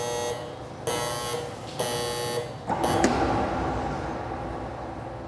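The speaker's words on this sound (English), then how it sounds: "Once the oven has finished preheating, the alarm will sound" A Rational combi oven sounds its preheat-finished alarm, a few loud repeated electronic buzzer tones with short gaps, then a different tone over a steady kitchen hum.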